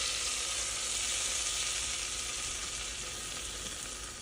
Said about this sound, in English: I'm gonna melt 3 tablespoons of butter in a saucepan. Once the butter starts to completely melt, we're gonna add 3 tablespoons of flour to this.